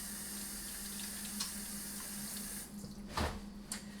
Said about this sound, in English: I got to make sure I wash these hands